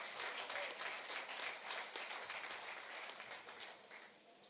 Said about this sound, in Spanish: Denle un aplauso al Señor si está alegre por la palabra.